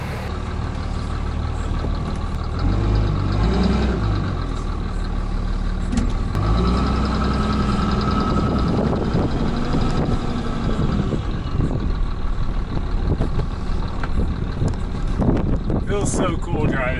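A diesel pickup truck engine runs while driving, a steady low rumble with wind buffeting the microphone, and someone talks over it partway through.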